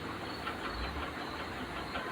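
Oil poured into a hot kadai while cooking Rahu fish curry gives a steady, fairly quiet broadband hiss and sizzle that holds evenly throughout, with no talking.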